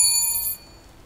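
A bright bell dings once during a Skyrim gameplay stream, its sharp metallic chime lasting about half a second before cutting off, loud and close with no talking.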